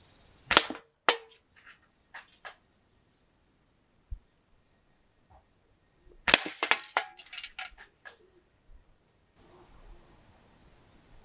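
A Tokyo Marui VSR-10 airsoft sniper rifle test-fires in a garden at old beer cans, giving sharp snapping shots in two clusters with small metallic knocks and rattles between them over quiet outdoor background.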